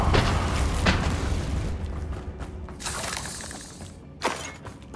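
Bombarda and Confringo spells explode in Hogwarts Legacy, with heavy rumbling booms and a shattering crash that trails off, followed by another sharp blast near the end.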